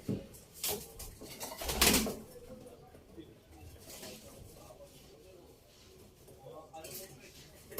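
Pigeons coo softly in the background while people talk nearby, with a few louder knocks and rustles early on.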